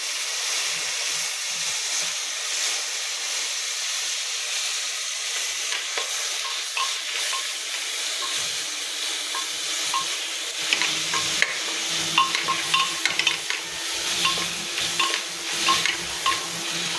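Tomato and green chilli fry in a pan with a constant bright sizzle, with scattered clinks and scrapes of stirring growing busier toward the end, no talking.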